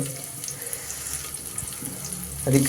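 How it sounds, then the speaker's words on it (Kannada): Water runs steadily from a kitchen tap while vegetables are washed for a home-cooked recipe, a continuous close splash with no talk, growing a little louder and fuller near the end. "ಸೊ ನಾನಿವಾಗ ಎಲ್ಲ ಐಟಮ್ನ ತೊಳೆದ್ಬಿಟ್ಟು ಚೆನ್ನಾಗಿ ಮಾಡ್ತಾಯಿದ್ದೀನಿ"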